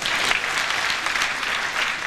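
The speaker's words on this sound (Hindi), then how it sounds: "एक बात ताली हो जाए इसी बात का" Applause from the audience at a comic Mahamoorkh Sammelan gathering, a dense, steady patter of many hands clapping throughout at a constant, fairly loud level.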